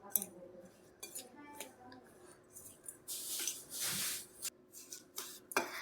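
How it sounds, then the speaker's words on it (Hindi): Ghee mixed into a sweet mixture in a bowl, heard as close, irregular scraping and clinking of a utensil against the bowl with a few louder bursts of stirring. "अब यहाँ पे हमको 50 ml घी ऐड कर देना है और इसको कर देंगे हम अच्छी तरह से मिक्स"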